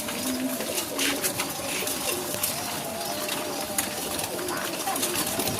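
Pigeons, mostly black hens, feed at close range and give soft low cooing calls amid wing flutters and outdoor background noise, with a person talking over them.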